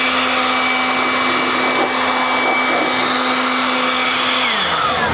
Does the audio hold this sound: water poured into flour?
no